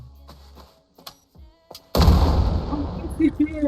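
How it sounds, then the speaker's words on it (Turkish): Quiet scattered speech and clicks, then a sudden loud land mine blast in the video game Are We There Yet? that rumbles and crackles on for over a second. "Mayın varmış burada"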